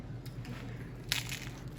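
A faint, brief crunch from a bite into a thin-crust fig and prosciutto pizza with a well-cooked underside, a crisp crackle near the middle of otherwise quiet room tone.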